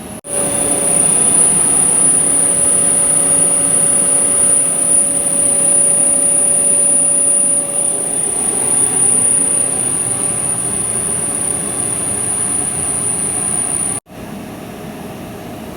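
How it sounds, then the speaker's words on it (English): A DC series motor runs during a load test as the load on its shaft is increased, giving a loud, steady hum with a constant whine that holds for the whole stretch and dips briefly near the end. "Again we are going to increase the load on the DC motor shaft."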